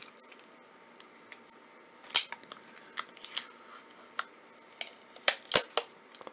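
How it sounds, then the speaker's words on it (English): Protective tape-like film is peeled off a new USB condenser gaming microphone, giving faint, close crinkles and sharp little snaps and ticks scattered irregularly over a quiet background. "Let's peel that off."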